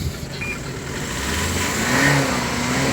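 A car engine hums and then revs up at a car market, the pitch rising and holding steady, close by with no voices over it.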